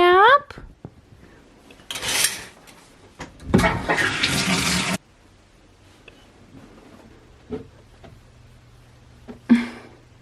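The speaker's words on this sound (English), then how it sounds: "So I'm gonna take a shower now" Bursts of running water from a home shower, two broad rushing stretches of spray separated by quieter gaps, with faint clicks and a brief splash near the end.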